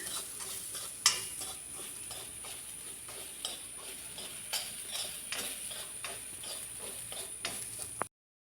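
Grated coconut roasts in a pan with a steady, low sizzle while a spoon scrapes and clicks against the pan in an irregular rhythm.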